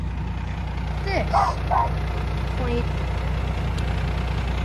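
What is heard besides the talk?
Republic Services bulk garbage truck idling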